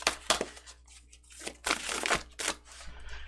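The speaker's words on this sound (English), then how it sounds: "I'm going to put them back in and shuffle and see what's really supposed to come out here." A deck of tarot cards is shuffled up close in several bursts of crisp riffling and slapping, separated by short pauses.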